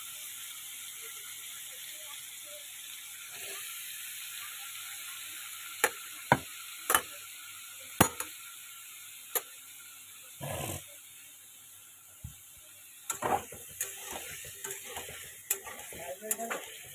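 Potatoes frying in soybean oil in a pan give a steady soft sizzle, broken by sharp, irregular clinks and scrapes as a utensil stirs them.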